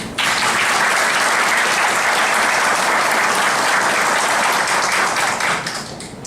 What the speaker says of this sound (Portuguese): Eu quero pedir para Vossa Excelência uma salva de palmas